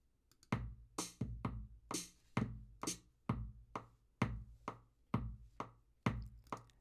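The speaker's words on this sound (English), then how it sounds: "That clicking sound you're hearing is the metronome" Steady metronome click track ticking at a regular tempo, with crisp evenly spaced clicks close up and alone, set up for recording drums.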